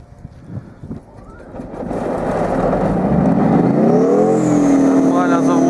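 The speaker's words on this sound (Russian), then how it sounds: "Запуск танка при минус 11." A military tank's engine starts up in freezing weather at minus 11 degrees, cranking roughly before catching into a loud rising roar that settles into a steady heavy idle, close by, with a voice briefly over it.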